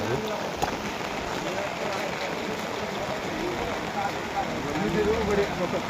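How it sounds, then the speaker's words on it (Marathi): Rain falls steadily on a farm village at Mukramabad in Nanded district, making a continuous soft hiss and patter. Murmured voices sit low in the background. "अभी भी चालू है बारिश"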